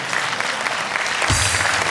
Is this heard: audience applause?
yes